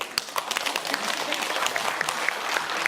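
A seminar audience at the P&I 2022 photography event breaks into steady applause, many hands clapping densely together at moderate volume for about three seconds, with no speech over it.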